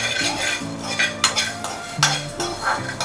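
A metal spoon stirs and scrapes in a pan of roasting coriander seeds, pepper, coconut, cinnamon, cloves and cardamom. Quick, close clinks and scrapes come in an uneven rhythm over a faint dry sizzle.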